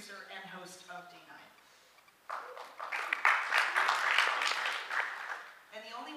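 After someone speaks, a live audience breaks into applause that swells to a moderate, steady patter for a few seconds before fading as he resumes talking.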